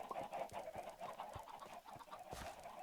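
Several Minecraft chickens cluck in quick, overlapping bursts, fairly faint and steady throughout, with no voices.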